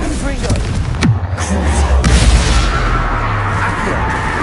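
A Confringo fire spell explodes in the Hogwarts Legacy video game, heard as a sharp burst followed by booming impacts and a rumbling tail, with game sound effects and some speech-like sound mixed in.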